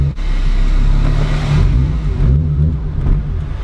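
A 600 hp turbocharged Fiat Marea revs hard from inside the cabin, its engine droning loud and steady with a rising, surging note and a brief dip near the end.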